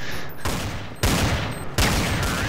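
Gunfire in Counter-Strike: Source: three loud bursts of shots, each one sharp and sudden, roughly every 0.7 seconds, each trailing into dense rattling shots that run together, with no voices.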